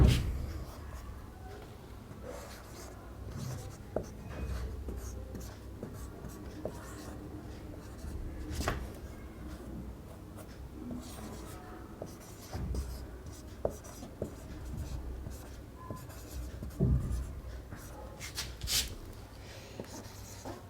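Quiet, intermittent scratching strokes of writing on a board during a computer hardware lesson about printers, with short bursts separated by pauses and occasional sharper taps, fairly faint in a calm room.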